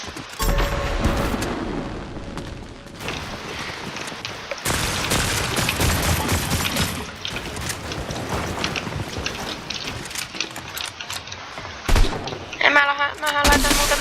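Bursts of rapid gunfire in Fortnite crackle through a dense, noisy mix, with sharp shots and booms recurring over a steady rumble while someone talks.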